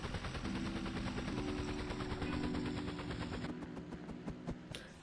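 A helicopter engine in the video game Scarlet Skies, throttled up for takeoff, gives a loud, rapid mechanical chatter with a sustained tonal drone, overlaid by dense, evenly spaced percussive pulses that cut off abruptly near the end.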